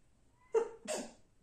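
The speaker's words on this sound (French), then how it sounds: "excuse-moi d'éternuer" A single close sneeze in two parts, a sharp intake followed by a forceful burst, in an otherwise quiet room.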